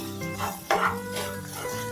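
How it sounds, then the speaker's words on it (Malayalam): A spoon stirs ingredients in a pan while making bread upma, with a few close scrapes and light metallic clinks over a faint background hum. "നന്നായി ഇളക്കി കൊടുക്കുന്നുണ്ട്."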